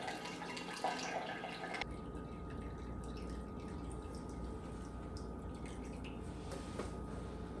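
Liquid drains from a bag of brewing grains lifted out of the kettle for a five-gallon IPA, making a steady, soft trickle and patter of dripping wort, close and continuous, with no talk.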